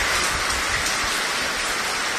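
Heavy rain pouring steadily in Abohar, a dense, continuous hiss of falling water close by, even and unbroken throughout with no voices.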